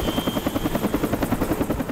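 A helicopter flying at sunset during a training flight gives off a steady, rapid rotor thump with a rhythmic pulsing beat, moderately loud and alone.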